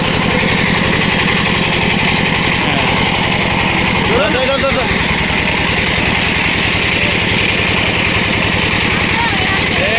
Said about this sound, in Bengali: এই যে মেশিন স্টার্ট হয়ে গেল।